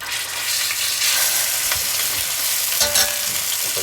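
Chorizo burger patties fry in hot oil in a pan, giving a steady, loud sizzle with crackling pops throughout and a sharper burst near the end, no voices.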